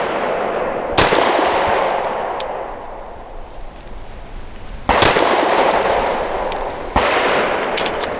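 Three sharp, loud pistol shots from a Grand Power P1 Ultra fired on a range, spaced a few seconds apart, each followed by a ringing echo that slowly fades.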